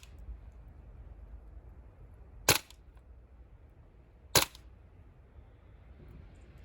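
A Tokyo Marui M4A1 airsoft gas blowback rifle fitted with a top-slotted flash hider fires two sharp, loud single shots about two seconds apart outdoors in snow, with quiet background between them.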